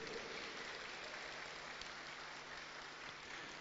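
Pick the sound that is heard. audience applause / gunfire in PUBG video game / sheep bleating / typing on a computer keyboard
audience applause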